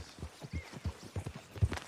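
Horse hooves clip-clopping in Red Dead Redemption 2 as a rider heads toward town, a steady walking rhythm of distinct, fairly close thuds at moderate volume with no talk over them.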